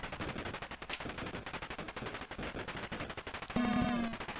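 Rapid, continuous bursts of chiptune gunfire rattle from an Atari 8-bit Beach Head II gun firing at paratroopers, steady and dense, then a brief buzzing tone sounds near the end.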